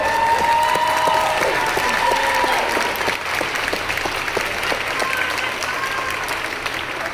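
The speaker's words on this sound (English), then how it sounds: "Please a round of applause." Steady, dense applause from a crowd at a book release event fills the room, clapping continuously throughout with a slight dip partway and a few voices mixed in.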